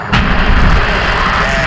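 The DSCOVR rocket lifts off with a loud, deep, continuous rumbling roar that begins abruptly and holds steady throughout, heavy and crackling like distant artillery.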